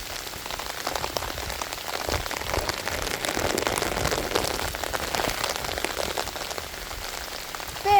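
Steady rain pours down, a dense continuous hiss of drops hitting surfaces, loud and close with no voices.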